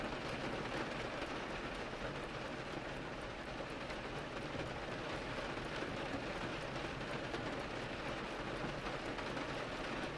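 Steady rain falls without pause, a dense, even hiss of drops on surfaces held at a constant, soft level with no voices.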